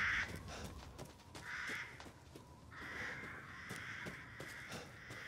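Crows caw repeatedly in the game Resident Evil Village, giving several harsh, drawn-out calls at a middle distance over a faint ambient background, with no talking.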